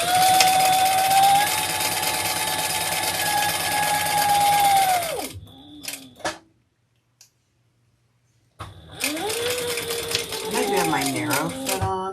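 A sewing machine stitches a crossbody bag in steady, loud runs that stop with a brief pause and near-silence, then resume with slower, uneven stitching.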